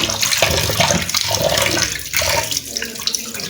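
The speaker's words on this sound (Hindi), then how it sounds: "चिकन को हम अच्छी तरह से धो लेंगे।" Tap water runs steadily over chicken pieces rinsed for white karahi, a continuous splashing gush, close and fairly loud, with no talking.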